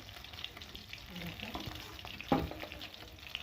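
Hilsa fish fries lightly in oil with a soft, steady sizzle close by, broken by a brief clatter of stirring, while a voice talks faintly in the background.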